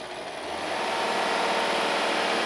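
A Rolls-Royce 6.75-litre V12 engine revs, rising from a low idle into a smooth, steady, loud hum that holds evenly, close by and without voices.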